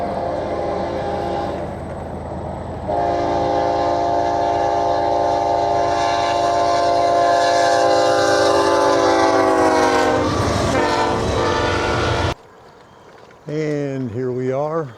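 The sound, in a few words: train passing with horn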